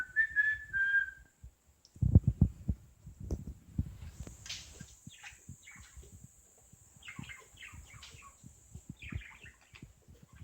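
A pet budgie gives a few clear, high whistled notes at the start, followed by soft scattered chirps and rustling close by, with no talking.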